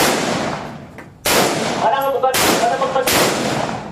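M16A rifle firing at a military marksmanship training range: loud, sharp shots in quick succession, close and reverberant, with instructor voices briefly heard between.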